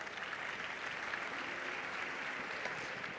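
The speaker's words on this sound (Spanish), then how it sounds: "La recibimos con un fuerte aplauso." An audience at a round-table session of a congress greets a speaker with steady, fairly distant applause that carries on evenly without letting up.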